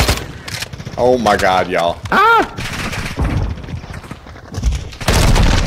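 Gunfire in Call of Duty Modern Warfare 2, with bursts of shots coming in and out behind excited talking and a brief exclamation.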